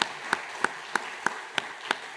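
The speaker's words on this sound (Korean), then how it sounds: "박수로 축복하겠습니다" Seven sharp, evenly spaced claps ring out about a third of a second apart over a low room hum, as a church congregation applauds to bless newcomers during a Sunday service, with no talking.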